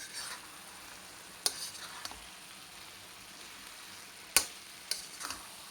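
Pumpkin halwa made with jaggery fries in homemade ghee in a pan, giving a low, steady sizzle broken by a few sharp clicks and scrapes from stirring, close by and without talking.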